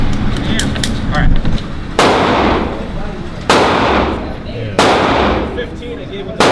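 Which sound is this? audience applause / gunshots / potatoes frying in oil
gunshots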